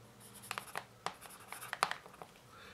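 Camel HB pencil writing on paper, a quiet run of short scratchy strokes in an uneven rhythm, close up and alone.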